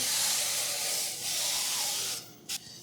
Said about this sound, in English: Just need to get a little spray on here.